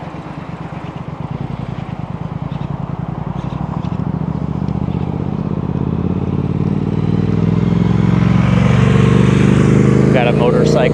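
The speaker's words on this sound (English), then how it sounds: "Got a motorcycle." A motorcycle passing on a road during a bike ride in the United States, its engine growing louder and closer over a steady drone of wind and traffic.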